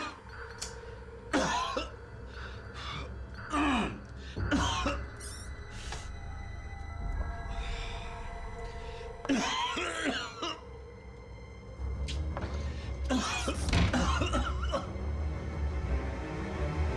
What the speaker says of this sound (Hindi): नहीं, सिर्फ खांसी है।